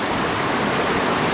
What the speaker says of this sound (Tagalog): Ilalagyan ng mga dahon para tuloy na pumasok sa pailog ang ating tubig